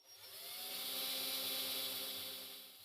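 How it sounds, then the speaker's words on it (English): A small drill with a 5/64 bit whines steadily at high speed for a few seconds, pre-drilling for a cabinet child safety lock, swelling slightly and then easing off, with no talking. "Again, we're pre-drilling with the 5/64 drill bit."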